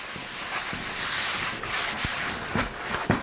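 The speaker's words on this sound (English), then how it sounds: "we're going to go back and we're going to wipe off all of the excess" A wad of paper towel rubs and wipes excess seasoning off hot cast iron cookware, a close, steady scrubbing with a few brief scuffs and knocks.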